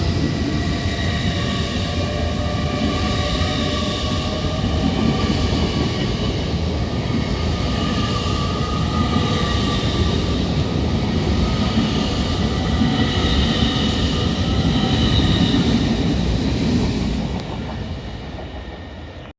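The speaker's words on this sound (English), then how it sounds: "Passing on platform 1 is going to be a LNER class 91 set, switching from the fast line to the slow line" An LNER Class 91 train passes through a station on the East Coast Main Line at Hitchin, crossing from the fast line to the slow line. It makes a loud, sustained rumble with droning tones for about seventeen seconds, then fades as it moves away.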